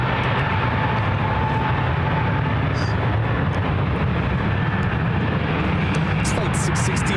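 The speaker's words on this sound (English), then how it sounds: "Aeromexico rolling on one left" An Aeromexico airliner, Flight 669, takes off from runway one left at San Francisco International bound for Mexico City, its steady low engine roar rolling continuously beneath a commentator's voice.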